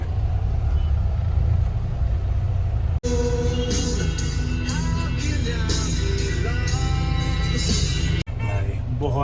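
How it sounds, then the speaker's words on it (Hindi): Road traffic in Mahabaleshwar, a steady close rumble of vehicles that runs continuously, with a music-like tonal layer over much of it and two abrupt cuts. "ये है ट्रैफिक, महाबलेश्वर का प्यारा ट्रैफिक."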